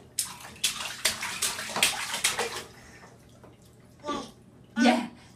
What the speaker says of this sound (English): Please don't splash.